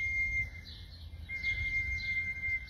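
Homing pigeons returning to the loft from a 25 km training flight, with faint chirpy calls and soft whistling over a steady low outdoor rumble, fairly quiet and continuous.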